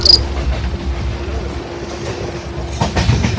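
A passenger train running at night on a journey from Delhi toward Kullu Manali, with a steady low rumble, a constant hum and faint rail clatter building slightly near the end.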